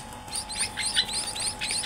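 Emprit munia birds chirp in quick, high, repeated tweets, several short calls in a row against a faint steady background hum.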